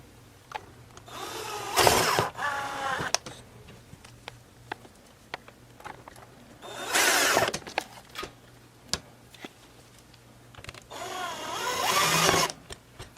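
A power tool drives screws back into a budget Glarry guitar during a makeover, three bursts of whirring spaced several seconds apart, each lasting about a second, with quiet handling sounds in the gaps.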